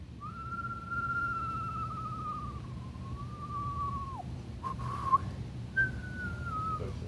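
A person whistles an imitation of a screech owl: a long wavering trill that slides slightly downward, then a shorter repeat after a brief pause, soft and alone.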